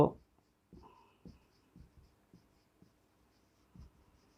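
Faint scratches of a pen writing out the binomial expansion of (1 + 2x) to the power 5 by hand, with short, irregular strokes spaced through a quiet room.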